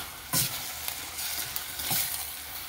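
Pork is stirred in a hot wok, a close, steady sizzle broken by a couple of louder scraping strokes of the utensil against the pan, with no talking.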